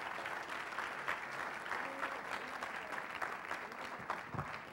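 A church congregation applauds during a sermon, a full, even roar of many hands clapping that fills the room for several seconds, with a faint voice barely audible underneath.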